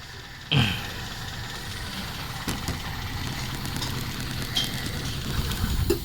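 Car engine idling steadily with a carburetor idle solenoid, a low rumbling hum broken by a few sharp clicks and knocks, then running on as the solenoid wire is pulled and the fuel is cut off.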